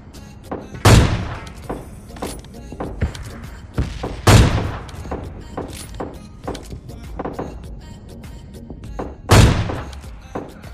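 Gunfire in the mobile battle-royale game PUBG Mobile Lite: three loud sharp shots spaced a few seconds apart, with fainter clicks and thumps between them.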